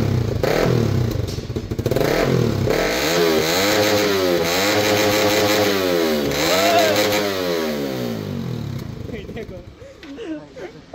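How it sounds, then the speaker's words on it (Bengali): A GSX-R motorcycle fitted with a new exhaust revs repeatedly up and down, loud and close, its engine note rising and falling in rhythmic sweeps before settling to a rougher idle. "এখন আমি আপনাদের এক্সজস্টের সাউন্ডটা শোনাই"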